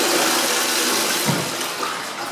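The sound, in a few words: toilet being flushed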